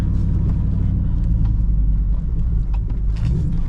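Truck rolling over a potholed street on the way to a car meet, heard from inside the cab as a loud, steady low rumble with small knocks and bumps.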